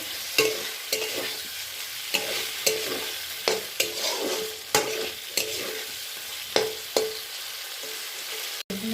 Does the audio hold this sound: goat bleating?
no